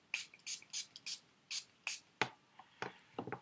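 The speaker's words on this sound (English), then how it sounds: "So you literally just close your eyes and do about 4 sprays all over your face." Jane Iredale Pomist facial mist sprayed onto a face, a run of about a dozen short, close, crisp hissing spritzes in quick irregular rhythm, each burst sharp and brief, with no talking.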